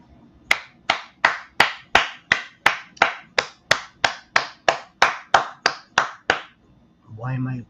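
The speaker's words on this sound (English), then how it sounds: "Why am I applauding? Why am I clapping?" One person clapping hands, about sixteen sharp, evenly spaced claps close to the microphone in a quiet room, followed by a brief burst of speech at the end.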